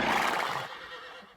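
A cartoon horse lets out a loud, shrill whinny that trails off and fades, heard on its own with no talking.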